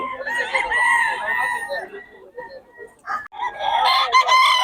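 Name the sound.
farm chickens, rooster crowing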